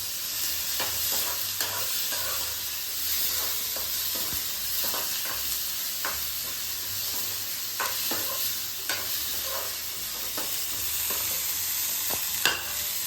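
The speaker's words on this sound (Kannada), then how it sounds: "ಈಗ ಇದನ್ನು ಚೆಂದಾಗಿ ಕೆಂಪಾಗಿ ಹುರ್ಕೊಬೇಕು" Brinjal curry fries in a pan with a steady, close sizzle and is stirred throughout. A spoon scrapes and taps the pan at irregular intervals, with no talking.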